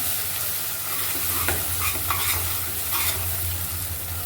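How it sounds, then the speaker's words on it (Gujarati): Onion gravy with cumin and turmeric sautés in a pan while a spoon stirs it, giving a steady close sizzle broken by a few scraping strokes. "આ રીતે ગ્રેવી થોડીક વાર સુધી સતળાવા દેવાની છે"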